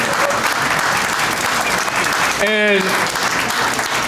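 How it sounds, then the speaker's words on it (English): Loud sustained applause from a large crowd honoring a visiting family at a college gathering, a dense continuous roar of clapping with a voice briefly speaking over it. "give a loud round of applause"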